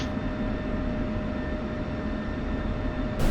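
An F-16C jet engine idling on the runway before takeoff in the DCS World flight simulator, a steady loud roar with a faint high whine that holds constant throughout.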